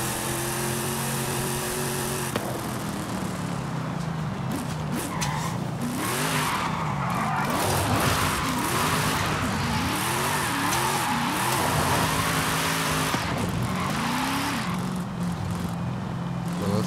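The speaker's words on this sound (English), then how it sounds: "You hear that supercharger putting in work." Supercharged LS9-swapped Nissan 240SX drifting in Forza Horizon 5: a loud, sustained engine howl with wavering revs as the throttle is worked, overlaid by long screeching tire squeal throughout the run.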